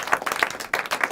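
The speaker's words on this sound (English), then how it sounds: "Can we get a round of applause?" A live audience at a small music performance gives a short, close burst of applause with dense, quick clapping.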